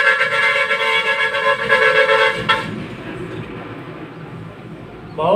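A car horn honks on a road with sustained, loud, near blasts for about two and a half seconds, then cuts off to traffic rumble before a brief final toot at the end.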